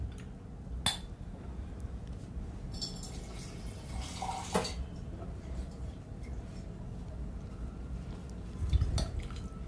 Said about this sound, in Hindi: तो दोनों को ऐड करके थोड़ा सा पानी डालेंगे।